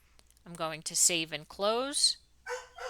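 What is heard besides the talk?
dog barking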